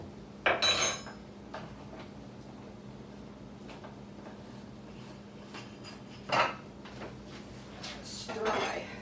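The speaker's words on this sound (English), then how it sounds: "Stir my sauce one more time." A spoon clanks against a pot of simmering tomato sauce for lasagna, with a few sharp metallic knocks spaced apart over quiet kitchen background hum.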